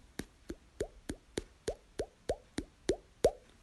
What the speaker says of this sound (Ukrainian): булькання.